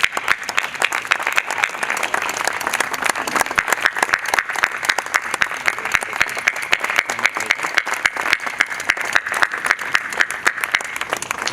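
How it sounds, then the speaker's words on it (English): Sustained applause from a crowd at an evening cocktail reception, dense, steady clapping holding at an even level throughout with no pauses, a few faint voices mixed in beneath it. "Please give them a round of applause."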